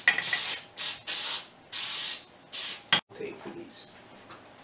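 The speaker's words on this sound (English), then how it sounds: "you really, really want to get these good and sprayed down heavily" Cooking oil sprayed heavily onto baking pans at a camp kitchen, heard as several sharp hissing bursts of varying length, close and fairly loud, with brief pauses and a few soft knocks between them.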